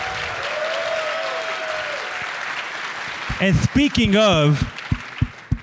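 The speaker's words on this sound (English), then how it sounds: "Can we give them a round of applause?" Audience applause for the organizers of the ng-conf 2022 keynote fills the first three seconds, a steady spread of clapping and crowd noise, before a voice begins talking over the fading claps.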